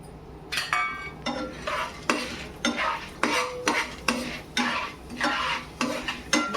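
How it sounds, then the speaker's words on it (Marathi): Chana dal roasting in a little oil in a pan for curry leaf chutney: a repeated scraping stir against the pan about twice a second, with a faint sizzle underneath, close and with no talk. "ही चणा डाळ आपण मस्तपैकी अशी भाजून घेऊ"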